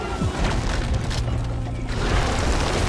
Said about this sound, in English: Shoot another missile on him.